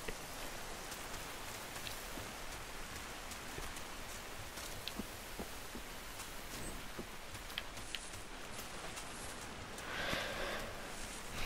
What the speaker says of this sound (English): This is a rain sound so peaceful.